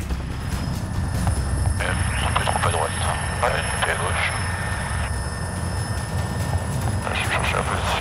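Close, steady rotor roar of a Caracal helicopter in flight during aerial refueling, a continuous loud drone with a high whine, while someone speaks over it.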